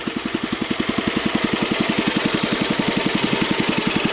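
A Kohler K141S single-cylinder engine idles under PTO load, a steady, loud, close chugging at an even rapid pulse that does not change over its length.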